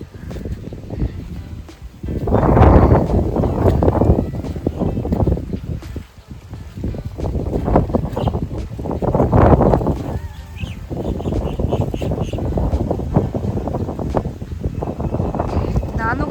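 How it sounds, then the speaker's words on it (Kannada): Cool wind blows outdoors across a mulberry plantation, rushing and buffeting in strong gusts that swell and fade, with voices talking nearby. "ತಣ್ಣ ಗಾಳಿ ಬೀಸ್ತಾ ಇದೆ"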